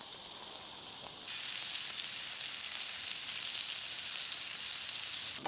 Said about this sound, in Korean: 여기에 마늘을 튀기면 돼.